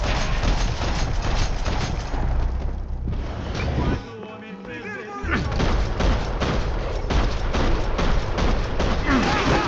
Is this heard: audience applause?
no